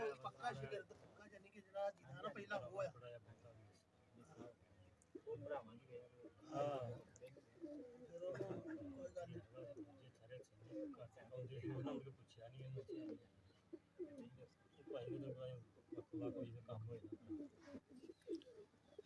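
Pigeons coo repeatedly in soft, throaty rolls over nearly twenty seconds, mixed with someone talking and a few faint chirps in the background.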